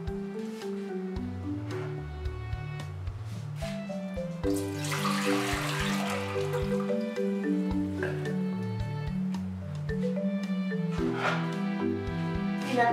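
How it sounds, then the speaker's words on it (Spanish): Water is poured into a small cooking pot for picadillo en caldillo, a brief rushing splash partly covered by a stepping melodic music track. "En una ollita pondremos nuestra agua."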